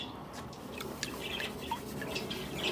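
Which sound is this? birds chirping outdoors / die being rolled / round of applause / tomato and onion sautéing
birds chirping outdoors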